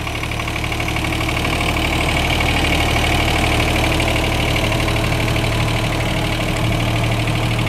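Two electric motors run together in reverse, giving a steady, loud mechanical hum and drone that holds without a break from start to finish, with no voices.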